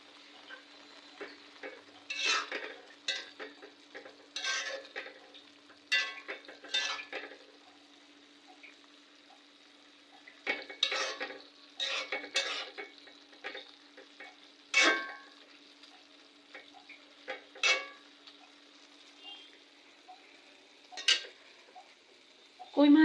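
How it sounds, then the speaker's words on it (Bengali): Kolai shak greens cooking in a pan, with repeated stirring scrapes and clatter over a quiet background and a faint sizzle between strokes. "কলই শাক রান্না করছি।"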